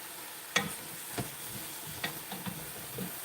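Bok choy sautéing in a pan over high heat: a soft, faint sizzle sits underneath while a utensil scrapes and taps the pan a few times at irregular moments, with no talking.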